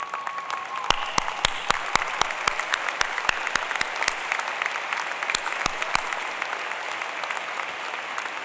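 Audience applause at a graduation matriculation ceremony for the class of 2017, a sustained crowd of clapping with sharp individual claps standing out, moderately close and continuing steadily without talk.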